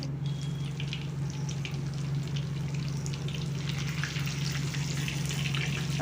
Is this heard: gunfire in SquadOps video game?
no